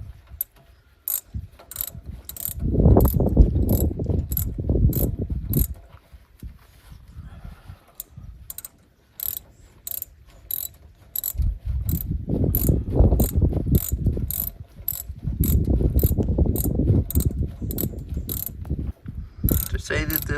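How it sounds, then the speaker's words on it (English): A ratchet wrench turns a long, many-threaded bolt tight on a truck liftgate, clicking in rapid, regular runs. Bursts of cranking strain come in between, with short pauses and no talk. "The bolt's in the right place, I just have to cinch it down. But it's a zillion threads, so you have to just keep on going."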